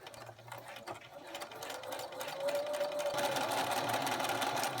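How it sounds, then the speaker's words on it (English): A sewing machine stitches a half-inch seam along fabric for a clothes hanger cover, running with a steady fast mechanical whir that speeds up and holds a higher, even pace partway through, fairly quiet and close. "we're going to sew down along here and then down along the side"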